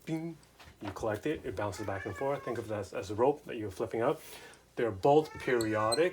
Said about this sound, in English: That's my cat talking.